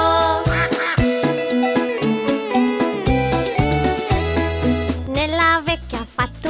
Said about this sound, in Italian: C'è un'anatra quack, anatra quack, ana, anatra quack, nella vecchia fattoria